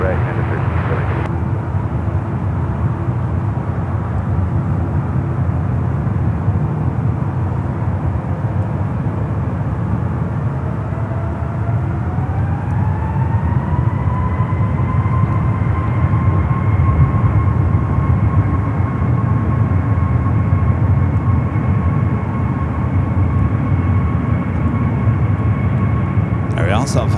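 An airliner spools up for takeoff on runway 28 left at San Francisco International, a steady jet rumble joined midway by a rising, then sustained, engine whine, with talk over it.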